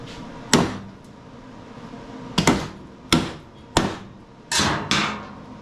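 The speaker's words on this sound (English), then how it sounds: "All right, now we'll grab a big old hammer." A big hammer whacking a stick jammed in the pulley of a Toro 22-inch Recycler lawn mower: six sharp metallic blows in an uneven rhythm, the last few in quick pairs, each ringing briefly before fading.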